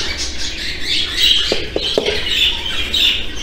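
Budgerigar chicks squawk inside a nest box in rapid, close, overlapping raspy calls, with a few brief thumps or shuffles mid-clip.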